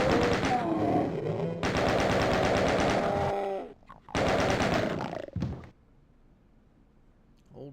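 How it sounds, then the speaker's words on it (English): A chain gun in the video game Doom fires in long, rapid automatic bursts, loud and close, with brief gaps between volleys before the firing trails off. "Old chain gun."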